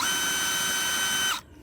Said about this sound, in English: They operate off a cordless drill